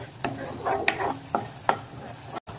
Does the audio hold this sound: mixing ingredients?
yes